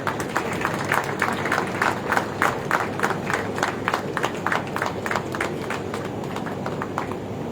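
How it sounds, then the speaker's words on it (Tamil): A crowd at a train inauguration ceremony in Chidambaram, India, claps steadily and continuously, dense and even, without pauses or voices standing out. "அனைவரும் கைத்தட்டல்களை கொடுக்குமாறு கேட்டுக்கொள்கிறேன்"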